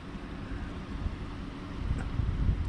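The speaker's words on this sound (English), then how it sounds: "Breezy with the little waves coming in, sound. You can just barely hear it lapping on the shore." Small waves lapping on the shore of Bluewater Lake in New Mexico on a breezy day: soft, continuous low wash with wind rumble on the microphone, growing slightly stronger toward the end.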